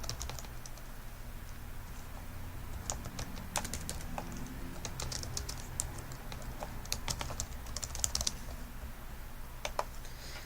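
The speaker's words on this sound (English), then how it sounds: "sometimes it's just as easy as just typing in the description again." Steady typing on a computer keyboard, a quiet run of irregular key clicks and taps close by, occurring alone with no talk.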